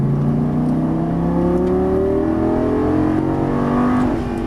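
A Lamborghini Gallardo LP550 accelerates hard on a race track, its engine note climbing steadily in pitch through a sustained, loud rising whine with a brief dip as it shifts near the end.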